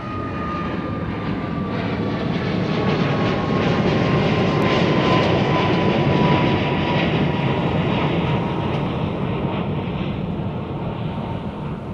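An airliner on an inter-island flight takes off from Honolulu airport, its jet engines roaring loud and steady for the whole stretch, with a high whining tone slowly falling as it climbs away, no voices over it.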